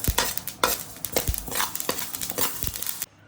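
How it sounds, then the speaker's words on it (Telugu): Spices for a moringa karam podi dry-roast in a pan, with a rapid run of close, sharp crackles and scraping stirs in uneven bursts that cut off abruptly near the end; nobody speaks. "సో దీనికి ఇవి చట్ సౌండ్ వస్తాయి చూడండి, ఇలాగ అవుతుందంటే ఇది వేగిపోతున్నట్టేనండి"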